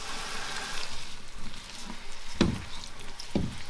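Fideua pasta frying in a pan while being stirred, a continuous soft sizzle with a couple of sharp scraping knocks of the utensil against the pan near the end.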